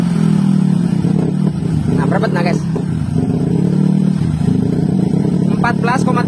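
A Honda Vario 150 scooter engine idles loudly and steadily nearby, with someone talking over it throughout.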